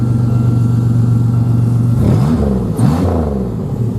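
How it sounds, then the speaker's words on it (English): Buick Century derby car engine running at a steady idle, then revved briefly with rising and falling pitch, loud and close. "Let me go ahead and start this thing back up so you guys can see just how well it works."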